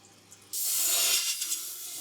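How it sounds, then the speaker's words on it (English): Coolant splashing onto a lathe parting tool, a steady close hiss of spraying liquid that starts suddenly and runs on without talk. "I am just going to put some coolant in there to cool it down."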